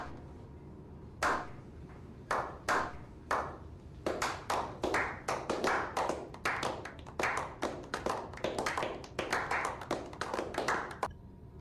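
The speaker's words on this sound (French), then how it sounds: "Applaudissements!" Hand claps from a small group, starting as a few separate smacks and building into quicker, denser clapping that continues to the end, fairly close and with no voices.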